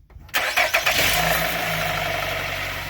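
A car engine cranks briefly with a few quick starter pulses, then catches and settles into a steady idle, close and fairly loud, with no talk over it.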